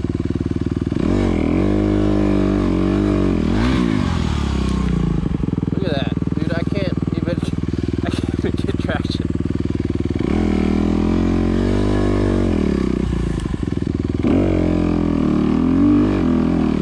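A 2021 Honda CRF250RX dirt bike engine climbs slippery, muddy hills, its close, loud motor rising and falling in repeated revs and sustained pulls, with a rider's voice faintly audible at times.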